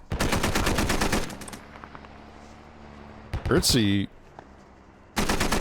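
Machine gun fire in the tactical shooter Squad: loud rapid bursts at the start and end, with a single near crack and a brief sweeping mechanical sound in between, plus a short spoken word.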